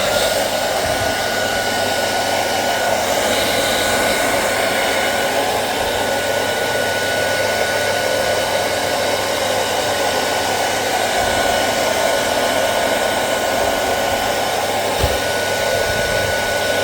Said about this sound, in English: we're going to give it a little dry with the hair dryer